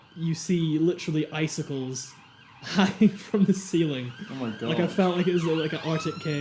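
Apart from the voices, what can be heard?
ambulance siren passing outside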